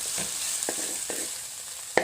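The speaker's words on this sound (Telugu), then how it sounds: "మనం ఇంకా 6 మిరపకాయలు అయితే సన్నగా తరిగి వేసుకొని వేయించుకోవాలన్నమాట బాగా" Sliced chilies and ivy gourd frying in oil at a night campsite, a steady sizzle broken by a few sharp scraping stirs and one louder clack near the end, with no voices.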